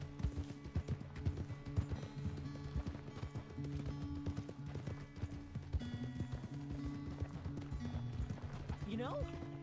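Horse hooves clip-clop steadily at a working pace in Red Dead Redemption 2 on ranch duty, a continuous rhythmic trot under faint background tones, with a brief whinny near the end.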